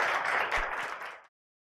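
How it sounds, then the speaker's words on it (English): A short burst of audience applause at a tech forum in Atlanta Tech Village, fairly faint and lasting just over a second before cutting off abruptly. "Let's give Christine one more round of applause"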